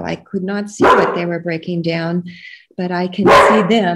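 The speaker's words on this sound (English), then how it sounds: "Excuse the dog." A dog barks briefly outdoors near a garden soil and mushroom demonstration, partly buried under a man's close, continuous talking.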